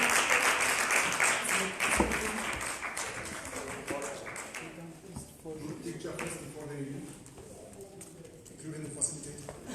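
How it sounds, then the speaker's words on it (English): At a customer service week convention in Botswana, an audience applauds a departing panel: clapping starts strong and thins out over several seconds, with talk and room noise mixed in. "Let's give them a big round of applause."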